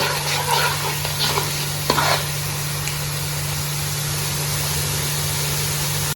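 Onions sautéing in a pan for Ambur-style mutton biryani, a steady loud sizzle with a few scraping stirs early on, continuing alone without talk.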